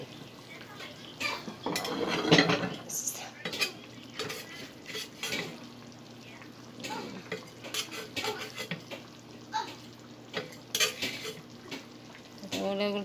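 Fish frying in oil in a pan, with soft sizzling beneath frequent clinks and scrapes of a utensil stirring against cookware, close and fairly quiet, with a voice occasionally speaking.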